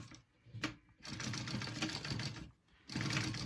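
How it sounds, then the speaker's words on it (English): A sewing machine stitches around the pockets of a traveler bag in close, loud runs of rapid needle chatter, pausing briefly twice between bursts, with no talking. "And now I'm going to sew around all of that."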